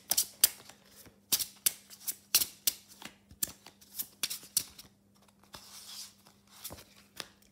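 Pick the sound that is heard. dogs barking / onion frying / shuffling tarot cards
shuffling tarot cards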